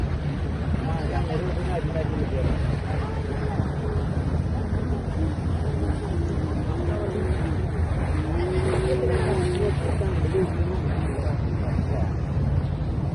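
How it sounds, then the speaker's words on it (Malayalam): Wind blows steadily in a continuous rushing roar on a boat at night in Dubai, over a low rumble on the water, with voices faintly mixed in. "കാറ്റ് വീശിക്കൊണ്ടിരിക്കുന്നത് ഇങ്ങടാണ്"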